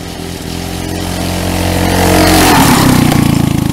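A go-kart engine revs steadily higher over a few seconds, a loud, close buzzing whine that climbs in pitch and holds near the top with a slight pulsing at the end.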